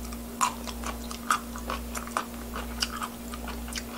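Raw sea mustard seaweed dipped in chili paste is crunched between the teeth, a close, steady series of crisp, juicy bites repeating roughly every half second over a faint hum.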